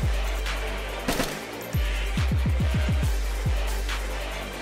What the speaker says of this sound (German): Auf mich hat auch was geschossen.